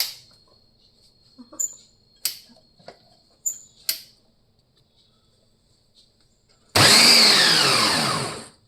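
A mixer grinder whirs loudly for about two seconds while briefly blending bottle gourd for poha, following several light clicks and taps in an otherwise quiet kitchen.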